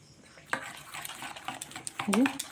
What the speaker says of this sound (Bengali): একটু হিংগুলো দিয়ে দিচ্ছি ভালো করে মিশিয়ে নিচ্ছি